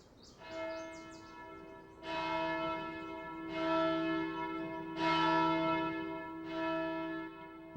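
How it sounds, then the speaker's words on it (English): Church bells of St. Benedict's Abbey in Atchison, Kansas, above the Missouri River bluffs, ring in rich, sustained peals, with a fresh loud strike roughly every one and a half seconds, each one swelling over the lingering hum of the last. "When the bells echo over these majestic bluffs along the Missouri River in Atchison, Kansas"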